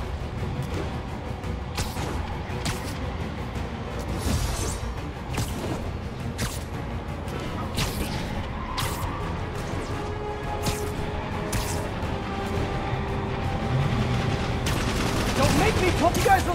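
Enemy gunfire in Spider-Man Remastered's Sable DLC: sustained bursts of automatic shooting and crashing impacts across the whole stretch, growing louder toward the end, with a voice talking over it.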